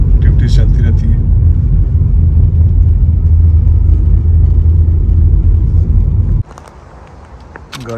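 Car engine rumbling steadily at close range while driving into a parking spot near the Occoquan river in Virginia, then cutting off abruptly, leaving quiet outdoor ambience with faint scattered sounds.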